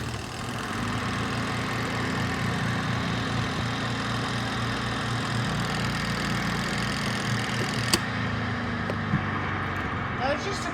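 A mini portable washing machine running a quick spin cycle gives a steady, loud motor drone with a low hum throughout, and a brief click near the end.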